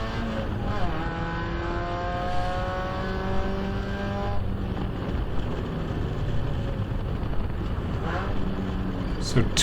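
Spec Miata race car lapping Rockingham Speedway, its engine droning steadily from inside the cabin with rising and falling gear pitch and wind rush, while the driver talks over it throughout.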